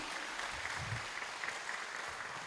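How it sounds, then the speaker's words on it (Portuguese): Dense, even clapping rises from a church congregation applauding Jesus, a soft, continuous wash of many hands heard from some distance with no talking. "Salve de palmas ao Senhor Jesus."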